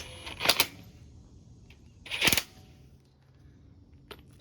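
A torque wrench tightening truck lug nuts on an F150, two sharp, close clicks about two seconds apart, then a faint tick, against a quiet background.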